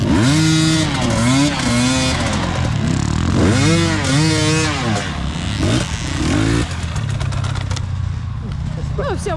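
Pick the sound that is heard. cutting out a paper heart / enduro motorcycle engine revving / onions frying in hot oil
enduro motorcycle engine revving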